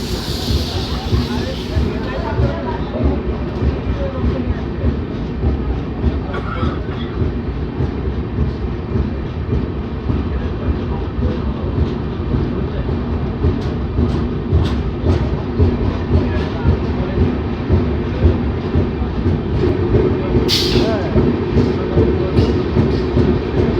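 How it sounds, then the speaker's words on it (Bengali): The Rupasi Bangla Express rolls on after departing Bishnupur station, past trees near the track, giving a loud, continuous rumble and clatter of wheels and carriages heard from inside the train, with faint voices in the background. "বিষ্ণুপুর স্টেশন থেকেও ট্রেনের ডিপারচার হয়ে গেছে।"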